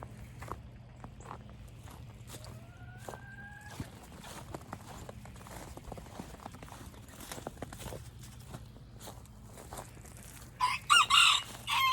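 A rooster crows once at middle distance amid a busy farmyard background with scattered footsteps and knocks, followed by a burst of chicken clucking.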